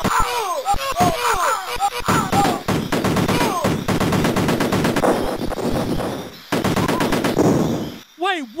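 Rapid bursts of retro Amiga video game gunfire as soldiers are shot, dense machine-gun rattles and repeated shots filling most of the stretch, loud and close, with brief gaps and a few whooping electronic effects near the end.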